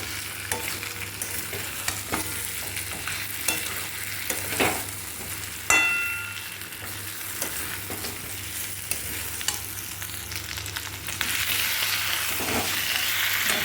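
Chicken with fried potatoes and chili being sautéed down (kosha) in a pan: continuous sizzling with frequent spatula scrapes and clunks, a louder splash-like burst midway and the frying growing denser toward the end, no talk.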